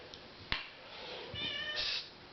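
A cat gives a brief, fairly soft meow while being brushed, following a sharp click.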